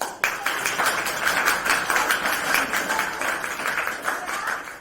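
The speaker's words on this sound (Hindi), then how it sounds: "ताली लगाइए।" An audience applauds at a spirulina nutrition talk, brisk overlapping clapping that starts abruptly and continues steadily for several seconds before tapering slightly.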